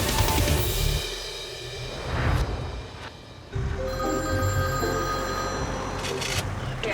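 A smartphone rings with a repeating electronic ringtone that comes and goes over several seconds, while people talk nearby.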